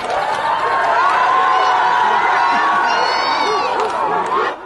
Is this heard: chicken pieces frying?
no